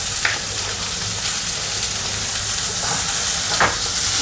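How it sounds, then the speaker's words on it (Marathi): Bell pepper squares hit hot oil on high flame for chicken crispy, giving a loud continuous sizzle and fry hiss close by, with a few stirring scrapes over the top and no talk. "आता ह्याच्यामध्ये मी ही भोपळी मिरची पण स्क्वेअरमध्ये शेकून घेतले, ती पण ह्याच्यामध्ये घालते।"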